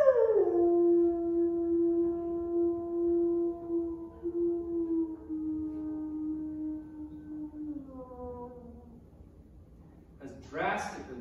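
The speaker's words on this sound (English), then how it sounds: "So when I hear a wolf howl this way," A single long, drawn-out wolf howl holds a steady pitch for about eight seconds, then slides downward and fades. It is clear and fairly close, with a brief burst of other sound at the very end.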